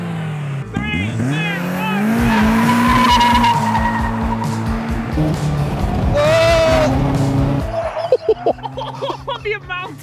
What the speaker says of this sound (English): The amount of tyre squeal.